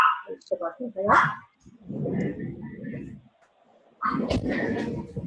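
Dogs bark indoors in a home, with several sharp bursts of barking set between stretches of muffled speech from a person nearby, fairly quiet overall.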